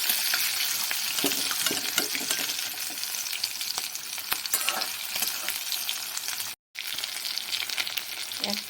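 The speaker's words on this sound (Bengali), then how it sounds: "বড়াগুলো এক পিঠ ভাজা হয়ে গেছে। এবার আমি আরেকটা পিঠ দিয়ে দেবো" Fish-oil fritters fry in a pan with a dense, loud, steady sizzle and crackle, a brief silent gap near the end, and the sizzle resuming right after.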